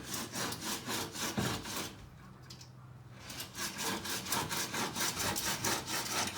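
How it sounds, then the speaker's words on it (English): A hand saw cuts through the metal bodywork panel of a Suzuki van, steady back-and-forth strokes in a fast even rhythm, close and clear, with a short pause midway before the sawing resumes. "So just sawing away,"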